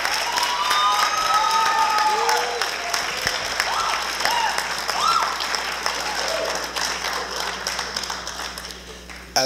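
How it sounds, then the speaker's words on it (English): Audience applause at a high school National Honor Society induction ceremony: steady, full clapping from a large crowd with a few whoops and cheers early on, slowly tapering toward the end. "Another round of applause for such wonderful students and great accomplishments."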